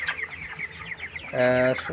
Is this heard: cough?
no